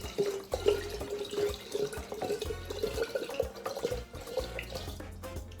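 Water is poured into a limoncello mixture of lemon-infused alcohol and sugar, a steady splashing, gurgling pour that continues for several seconds at close range without anyone talking.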